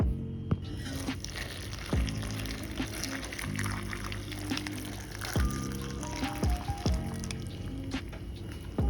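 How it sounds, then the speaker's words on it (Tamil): Spinach blanching in boiling water: liquid bubbling and sloshing steadily, with a few sharp clinks and knocks from a pot or utensil, close by and fairly quiet. "இப்போ பாருங்கள், நம்ம பாலக்கீரையை கொதிக்கிற தண்ணியில் போட்டு வச்சுருக்கோம்"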